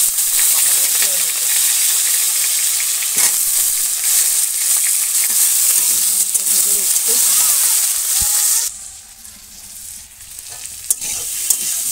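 Potatoes frying in hot oil with cumin and onion, a steady loud sizzle filling most of the clip before dropping off near the end, with occasional stirring clinks.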